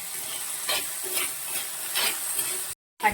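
Green chillies frying in hot oil make a steady, close sizzle and hiss, with soft stirring scrapes every half second or so, before the sound cuts out abruptly and briefly resumes.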